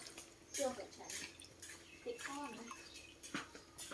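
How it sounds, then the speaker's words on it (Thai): Bananas are washed one by one in water, with soft splashing and dripping in irregular bursts, moderately close, alongside handling noises and no speech. "อันดับแรกก็ต้องล้างให้สะอาดก่อน นะครับ ล้างทุกลูกเลยนะครับ"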